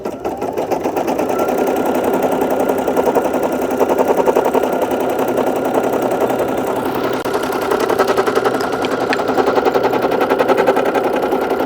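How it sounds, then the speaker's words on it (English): A portable embroidery machine sewing a triple stitch outdoors by the water, a loud, continuous rapid mechanical chatter of needle strokes holding a steady rhythm throughout. "Now we're gonna tack it on down. Kind of hold this one in place a little bit. And it's gonna do our triple stitch."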